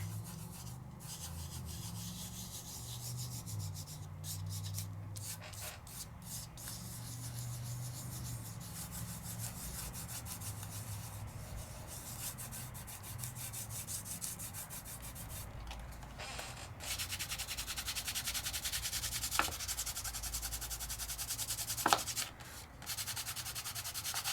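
Microfine glitter is brushed and burnished onto glue over layering stencils, making faint, steady rubbing strokes with a few sharper brushing swipes toward the end.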